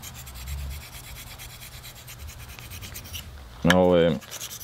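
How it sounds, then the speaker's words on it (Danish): A knife blade is sharpened and polished on a whetstone, soft repeated scraping strokes up close, with a brief higher-pitched ringing scrape near the end. "Vi er med at få en meget fin poleret knivsæg her på siden."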